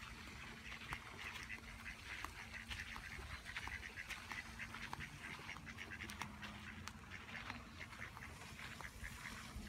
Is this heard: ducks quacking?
yes